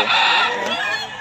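Chickens at a busy market give one loud, drawn-out squawking cry, close and sustained for about a second.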